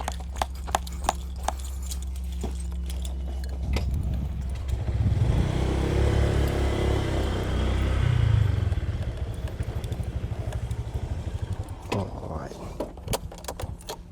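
A motorcycle engine idles and revs up nearby for several seconds while being parked at an old Dutch colonial fort, then cuts off, with rhythmic clopping and clicking sounds before and after.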